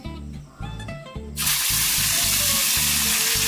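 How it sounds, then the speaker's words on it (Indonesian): Salted snakehead fish dropped into hot oil in a pan in a rural Kalimantan kitchen, a loud, close sizzle that bursts up suddenly and then holds steady as a dense hiss, with background music playing before and under it. "Sekarang kita goreng ikan asin gabus ini Sro Bujang."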